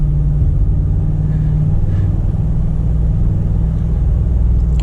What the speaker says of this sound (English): It sounds great though, with those side pipes